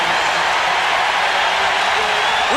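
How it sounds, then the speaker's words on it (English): A packed basketball arena crowd at a 1994 Western Conference playoff game between the Jazz and Rockets roars continuously, a dense, loud wash of cheering with no break. "Crowd exploding here."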